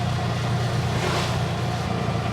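A tuk-tuk engine drones loud and steady while driving through Yala National Park in Sri Lanka, a continuous low rumble mixed with wind noise and no pauses.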